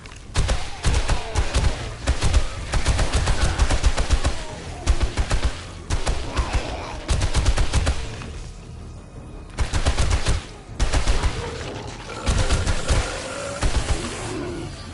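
Gunfire in the PS5 game 7 Days to Die: repeated loud bursts of rapid automatic shots separated by short pauses, close and punchy throughout.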